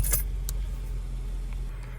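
A Nissan car engine idles steadily after a push-button start, a low, even hum with a couple of brief jingles of keys near the start.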